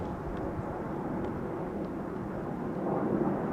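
Finnair Airbus A350 airliner landing at Amsterdam Schiphol on a sunny day, a steady broad jet roar held at moderate distance that swells slightly toward the end.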